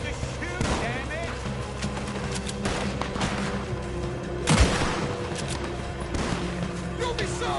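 Gunfire in the video game Red Dead Redemption 2, repeated sharp shots and bursts over a dense battle ambience, with voices talking throughout.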